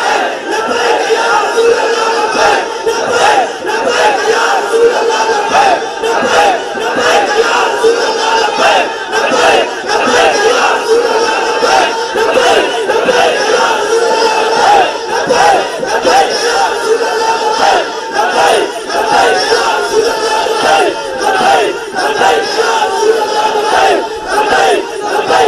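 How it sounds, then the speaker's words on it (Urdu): A large crowd at a religious gathering chants Labbaik Ya Rasool Allah over and over, a loud, dense roar of many voices pulsing in rhythmic waves without pause. "سارے بولو لبیک یا رسول اللہ"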